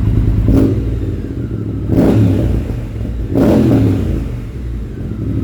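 A 2022 Triumph Speed Twin motorcycle engine revs three times in blips about a second and a half apart, close and loud, with crackling and popping from the exhaust between them.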